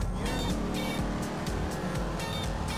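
A car in Grand Theft Auto V weaving through traffic, its engine a steady loud drone with rhythmic pulses and passing whooshes, close and continuous with no talk.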